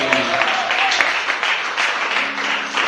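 A church congregation claps together in a loud, continuous burst of applause, dense and steady from start to finish, with some voices mixed in.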